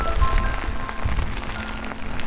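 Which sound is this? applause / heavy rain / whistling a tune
heavy rain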